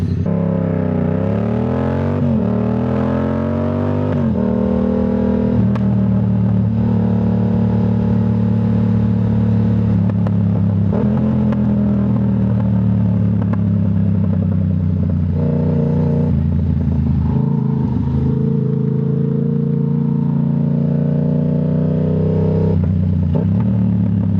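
A scooter engine runs steadily while riding, its mid-pitched drone rising and falling with throttle changes and some rattly clatter, loud and close throughout with no talk over it.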